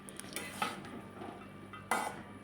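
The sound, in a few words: stirring fish-head chhyachra in a pot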